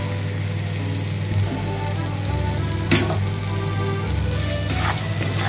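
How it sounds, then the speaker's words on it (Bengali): Continuous sizzle of fried potatoes being sautéed in a pan, with a low steady hum underneath and an occasional sharper scrape of stirring, close and fairly loud. "আলুগুলোকে দিয়ে ভালোভাবে আবারও কষিয়ে নিচ্ছি এটা।"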